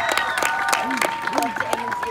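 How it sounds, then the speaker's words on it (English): An audience at a stage hypnosis show applauds and cheers, a busy crowd wash of clapping with a voice speaking over it. "let's send them deeper into hypnosis with applause and cheers"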